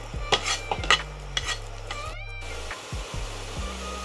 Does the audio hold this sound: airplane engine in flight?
no